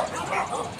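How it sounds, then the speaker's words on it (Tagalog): Dogs barking near a stairway on a city walk in Makati: a short, close yip or bark mixed with whimpering, heard alone without any talking. "maingay yung mga aso"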